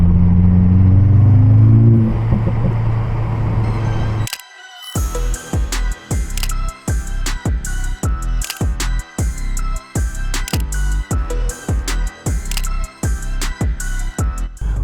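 An Audi S3 8Y fitted with an AWE exhaust starts up, then revs in a long series of sharp blips, loud and close, each rev ending in crackling exhaust pops.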